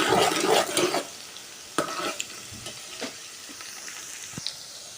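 Onions and locust bean fry in hot oil for Nigerian egusi soup, a steady close sizzle with bursts of stirring and scraping near the start, then a quieter crackle with occasional clinks.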